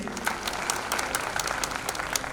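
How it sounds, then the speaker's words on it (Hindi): Enthusiastic audience applause at a celebration event in Mumbai, a continuous, close crowd clapping with sharp individual claps standing out over the dense wash throughout. "इनके लिए जोरदार ताली होनी चाहिए"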